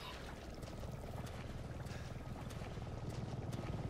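Helicopter flying in the video game Resident Evil 7, a steady rapid rotor chop with broadband wash that holds throughout and swells slightly toward the end.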